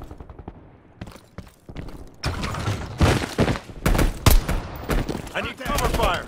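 Gunfire in the shooter game Call of Duty: Black Ops Cold War, with bursts of automatic fire and sharp shots building from sparse pops to dense, loud volleys, mixed with game voices and effects.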